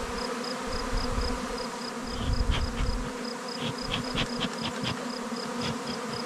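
Honeybees pour out of a strong hive in a village highland setting, a thick, steady close-up buzz with occasional louder passes and low rumbling handling noise beneath.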